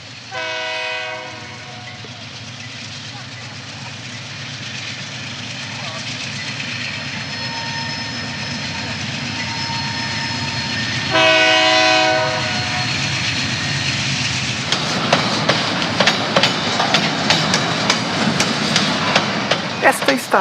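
A train rolls through the Miguel Burnier station area, its horn sounding in long harmonic blasts early on and again near the middle, over a steady rumble of rail cars that turns into rhythmic clickety-clack toward the end.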